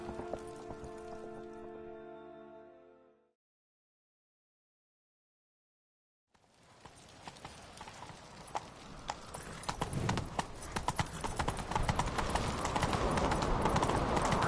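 Rapid hoofbeats of a galloping horse in a video game build from silence and grow louder and denser, following a brief musical passage that fades out.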